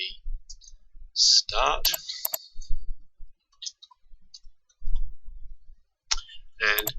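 A computer mouse clicks several times, sharp isolated ticks spaced apart, with someone talking in between the clicks at close range.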